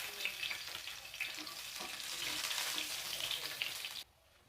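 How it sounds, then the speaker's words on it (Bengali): Garlic frying in hot oil in a pan after dried red chillies: a steady, hissing sizzle close by that cuts off abruptly near the end, with no voices. "রসুন ভেজে নেব।"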